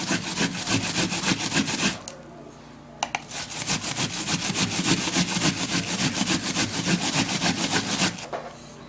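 Raw rice rasps against a grater in quick, even back-and-forth strokes, close up, with a short pause partway through and another near the end.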